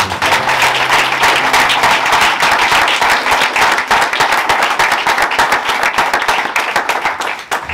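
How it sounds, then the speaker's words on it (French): A church congregation claps loudly and steadily for several seconds, a dense, continuous round of applause with no talk over it. "Acclamons encore une fois"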